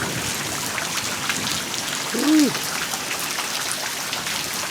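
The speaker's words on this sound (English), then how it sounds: "it's a rainy night in Georgia and in Alabama" Rain falls steadily at night in Georgia or Alabama, a constant hiss of drops on surfaces throughout, broken by a brief exclaimed voice near the middle.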